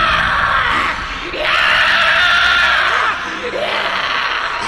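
A woman in a horror story shrieks in two long, loud, piercing screams separated by a brief gap, with a rough, strained edge.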